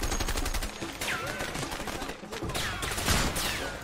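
Bursts of automatic gunfire in a prison escape video game, repeated rapid shots with ricochet-like whines throughout, loud and close with sustained action noise.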